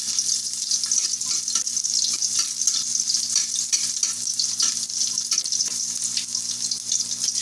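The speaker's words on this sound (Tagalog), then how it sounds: "So, lagay ko na ang ating bawang." Garlic sautés in a pan for pork ribs sinigang, giving a loud, dense, continuous crackling sizzle that holds steady from start to finish with no voices.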